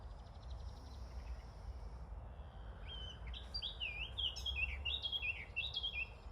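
Birds chirp and trill outdoors in a series of bright, fluttering calls that grow busier toward the end, set over a steady low background rumble and heard fairly close.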